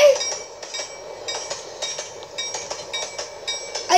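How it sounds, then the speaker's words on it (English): A train passes by in a video game, a steady rumbling stream with repeated rhythmic clacks and faint metallic clinks throughout. "Oh look, there's a train."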